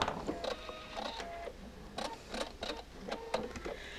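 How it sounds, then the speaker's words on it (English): A sewing machine stitches binding onto a quilt, giving a soft, rapid mechanical whir with rhythmic clicks and short bursts, close but quiet, with no voices. "going to stop sewing about 1/4 inch from the edge of the quilt"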